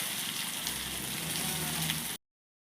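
Masala with tomato sautéing in a pan, a steady, fairly loud sizzle and frying hiss running unbroken for about two seconds, then cut off abruptly.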